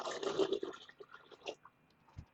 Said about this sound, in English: We are going to pour this water into the tank.